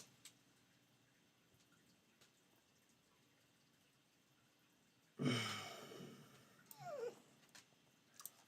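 A pet dog wanting attention lets out a sudden loud huffing snort or sigh midway, followed by a short whiny vocal sound, close by in an otherwise quiet room.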